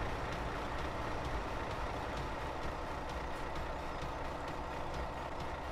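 A farm tractor in Landwirtschafts-Simulator 17 drives along with a steady, droning engine rumble, constant and unchanging throughout, with no voices.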